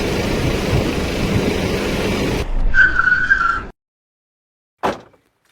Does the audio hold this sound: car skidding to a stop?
yes